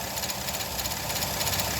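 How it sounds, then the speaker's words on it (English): A car engine idles during an air conditioning recharge, a steady close rumble with a faint rhythmic pulse that holds constant throughout. "Right now, the engine is running, so it's really hot."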